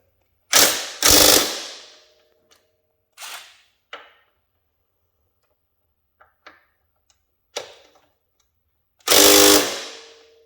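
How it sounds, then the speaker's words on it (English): An impact wrench works on a front suspension bolt of a Yamaha Raptor ATV: two loud rattling hammer bursts open the clip, then a few short mechanical clicks and taps, and another strong burst near the end. "I would prefer to put the impact on the nut end and not on the bolt end"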